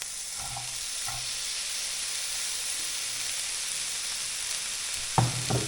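Shallots sizzling in fat in a pan for chicken forestière, a close, steady frying hiss with a couple of soft clicks early and a sharper utensil knock near the end.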